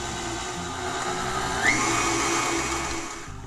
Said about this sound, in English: we'll let that whisk for a little bit again until it's nice and smooth